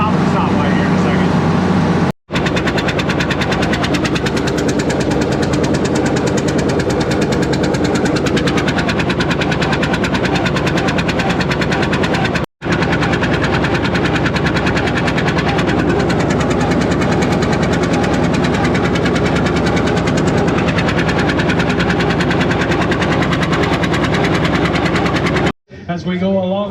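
A tractor engine runs on the road while being driven through town toward a county fair tractor pull, a loud, continuous rough throb with knocking pulses, close up, cut by brief dropouts, with people talking over it.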